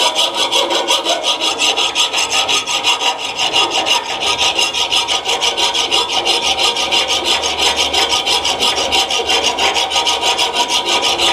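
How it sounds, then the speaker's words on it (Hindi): Loud, steady rhythmic filing on a metal part of an AC outdoor unit fan motor, quick rasping strokes repeating evenly and close up with no talking. "इसको हम फाइल करेंगे"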